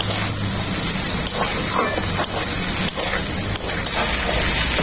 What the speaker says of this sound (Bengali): পরিমাণ মতো জল দিয়ে দেবো